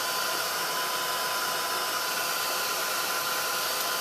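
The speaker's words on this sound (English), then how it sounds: "This is just the Ranger Distress tool." A Ranger Distress heat tool blowing hot air to melt embossing powder gives a steady, close, even hiss of rushing air with a faint whine, held constant and alone throughout.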